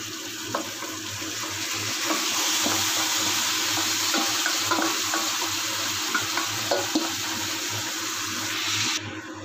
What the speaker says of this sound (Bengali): তো এটা দেখো আমার একদম কষা হচ্ছে।